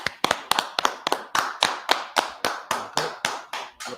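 An audience in a street preaching gathering claps in a steady, rhythmic beat, about four sharp claps per second, close and loud, with no talk.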